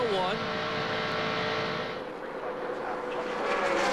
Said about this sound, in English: they rode by the entrance to pit road just one more time